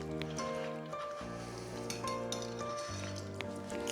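Fish sauce hits a hot pan of Pad Thai with a steady sizzle and frying hiss, while utensils clink and scrape against the pan and a tonal hum runs underneath.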